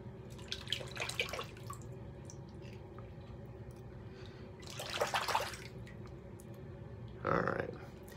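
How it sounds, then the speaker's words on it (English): A safety razor rinsed under a running tap, water trickling steadily with a few splashy bursts and clinks of the blade against the sink. "I gotta rinse this razor out here a little bit."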